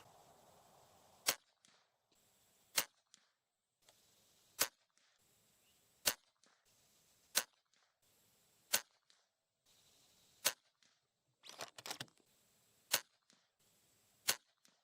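An FX Impact M3 air rifle fires slugs in a steady series of about eleven sharp, loud cracks spaced roughly a second apart, with quiet gaps between shots.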